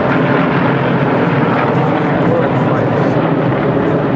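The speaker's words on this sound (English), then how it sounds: "Here comes our Spitfire replica once again, a very distinctive elliptical shaped wing that the Spitfire had." A Spitfire replica fighter plane with elliptical wings roars past at an air show, its steady engine drone loud and continuous while a commentator talks over it.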